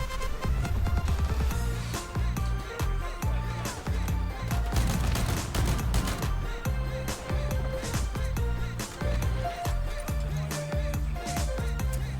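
A new shotgun in the Mx Guardian video game fires in rapid, repeated loud blasts, a dense stream of sharp shots with short gaps running throughout, close and punchy over a game soundtrack.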